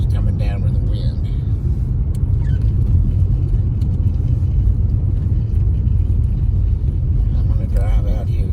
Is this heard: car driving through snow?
yes